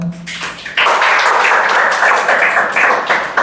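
A group of students claps together in a coaching class for a Chhattisgarh police recruitment exam. After a brief pause the clapping starts and holds as a steady, dense wash of hands until the end.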